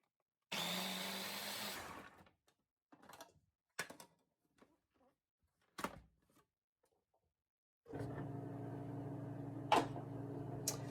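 A food processor whirs loudly as it shreds carrots and radishes, two steady motor bursts separated by several seconds of quiet, faint clicks and knocks.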